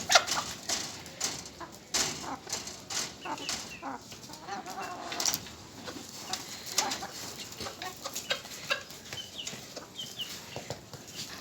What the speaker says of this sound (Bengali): এই যে দেখবেন কিভাবে মুরগি ফুল খায়, মুরগি ফুল খেতে খুব ভালোবাসে।